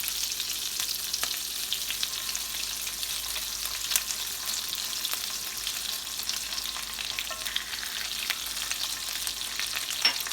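Oil sizzles and crackles steadily as lamb ribs fry, a continuous close crackle with scattered pops and no voices.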